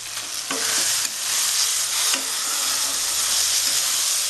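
Beaten egg fries in a hot pan for a Bengali-style egg and tomato dish, a bright, loud, steady sizzle with a few scraping stirs and no talk.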